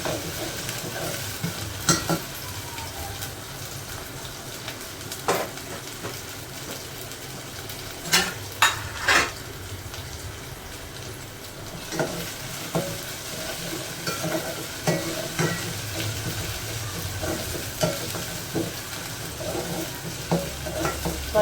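Onion and garlic, added with ginger, garlic and chili paste, sauté in a pan for a Malvani fish curry. A steady close sizzle runs throughout, broken by repeated scraping stir strokes, and no one speaks.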